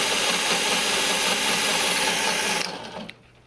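A cordless drill spins the chain drive of a 1990 Task Force 5hp rototiller, a loud steady whirring drone that runs continuously, then slows and fades out near the end.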